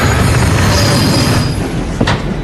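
A train passes close by with a loud, continuous rumbling roar, faint metallic squeals and a brief clank near the end.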